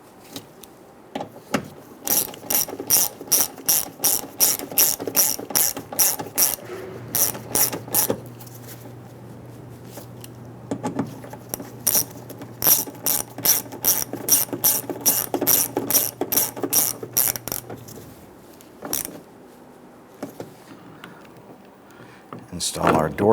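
Ratchet snugging screws on a rear door lock actuator of a 2011-2019 Ford Explorer: two long runs of fast, crisp clicking close to the mic, separated by a pause with a low hum.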